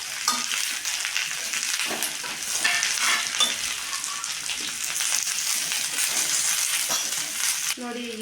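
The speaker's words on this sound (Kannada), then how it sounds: "ತರಕಾರಿ ಎಲ್ಲ ಫ್ರೈ ಹಾಕ್ತಾಯಿದ್ದೀವಿ." Chopped vegetables, cucumber and beetroot with onion, fry and get stirred in oil in a pan, a steady close sizzle with scraping stir strokes running throughout and no talk.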